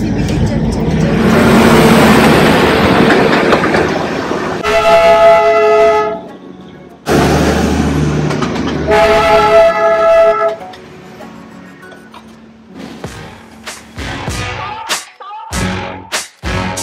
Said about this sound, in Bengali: ডিজেলের এই ট্রেনটা যাচ্ছে